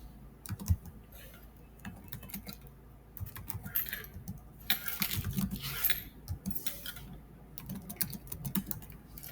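Fingers tap quickly on a computer keyboard while data is entered into an Excel spreadsheet, irregular clicking bursts close and fairly quiet, with brief pauses between runs of keystrokes and no talking.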